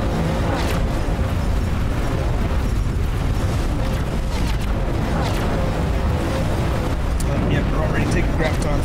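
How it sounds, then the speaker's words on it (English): Graviton weapon fire batters a ship in X4 Foundations, a dense, continuous roar of booming impacts and rumbling explosions, with a voice talking over it. "Yep, we're already taking graviton fire."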